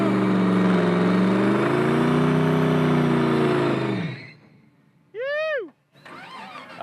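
Loud engine revving climbs and drones for several seconds, then cuts off; brief whistling tones and a voice follow in the quiet.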